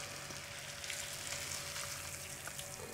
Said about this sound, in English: I'm gonna add in this boiling water